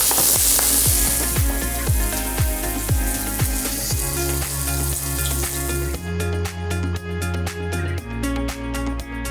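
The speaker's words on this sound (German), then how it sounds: "während unsere Patties hier munter vor sich hin brutzeln" Vegan protein burger patties sizzle steadily in a frying pan, with a loud crackling fry and sharp taps from a utensil against the pan.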